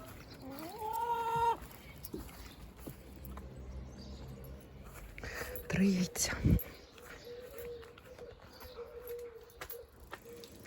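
A chicken lets out a rising squawk, followed by softer clucks and rustling nearby, with a person speaking quietly under the fowl sounds.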